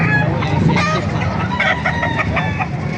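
Several roosters crow and chickens cluck together in a dense, lively chorus that continues without pause throughout.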